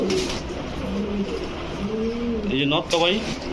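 Pigeons, including high-flying Giribaj birds, coo in a pigeon shop with repeated low rolling coos close by, and someone talks over them.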